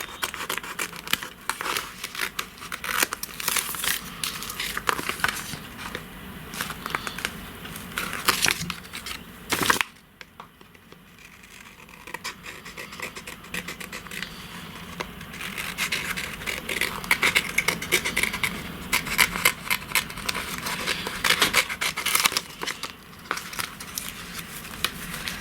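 Scissors snip through paper while cutting pieces out for a chunky handmade art journal, giving close, steady crisp cuts and rustles that run through most of the stretch, with a brief quieter pause partway.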